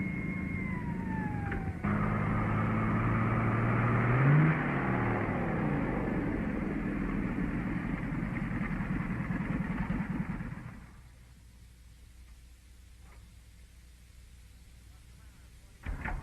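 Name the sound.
car engine slowing down in radio drama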